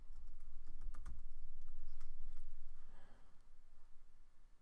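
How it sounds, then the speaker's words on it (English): Quiet typing of a password on a computer keyboard, a few soft scattered key clicks over faint background noise. "So I'm going to type that in with colon and then my password."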